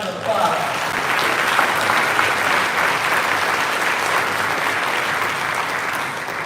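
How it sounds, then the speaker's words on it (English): An audience in a cathedral breaks into steady, loud applause that fills the whole stretch with sustained dense clapping and no letup. "Give yourselves a round of applause."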